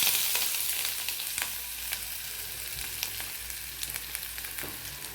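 Chopped onion and four green chilies sizzle steadily in hot oil in a home kitchen pan, a continuous close frying hiss with occasional crackles and stirring clicks, no voices.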